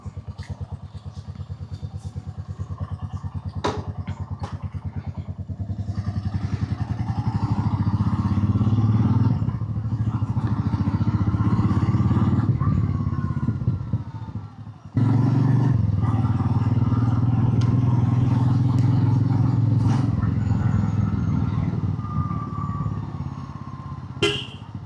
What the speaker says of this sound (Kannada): ರಾಯಲ್ ಎನ್ಫೀಲ್ಡ್ ಮೀಟಿಯರ್ ರೆಡಿ ಆಗಿದೆ